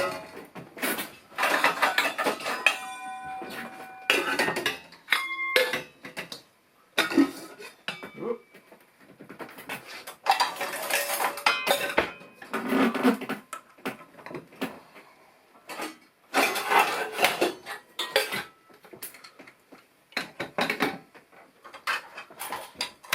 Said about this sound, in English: By the number of pans, you can see that it had been a few days since I did the dishes.